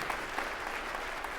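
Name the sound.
church audience applause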